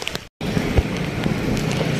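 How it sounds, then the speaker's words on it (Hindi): Steady rain falls outdoors under dark clouds, a continuous broadband hiss with a brief dropout near the start and a few soft thuds, close and moderately loud with no talking. "और बारिश हो रही है"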